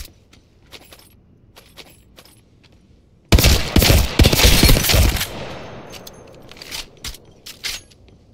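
Hemlock burst rifle firing in the Apex Legends video game, a loud sudden volley of shots after a quiet few seconds of faint clicks, then settling into scattered lighter impacts and rattles.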